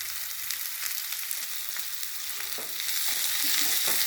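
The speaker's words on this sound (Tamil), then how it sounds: "இதை நல்லா வதக்கணும் கொஞ்சமாக பெருங்காயத்தூள்" Onions sizzling steadily in a pan with a pinch of asafoetida for a red chili coconut chutney, a close, continuous frying hiss with occasional stirring scrapes that grow busier toward the end.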